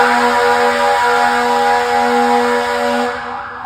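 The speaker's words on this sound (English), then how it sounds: "do you want to hear the loudest fire truck I've ever heard?" Loud fire truck siren on a city street, a sustained blaring tone with strong harmonics holding steady for over three seconds before cutting off abruptly.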